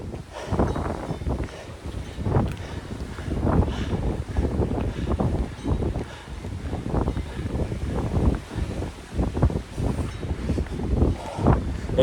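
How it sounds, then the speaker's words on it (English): Strong gusts buffeting the microphone on an outdoor walk in wet, windy weather, with rough low rumbling surges rising and falling continuously and no voices heard. "It's windy"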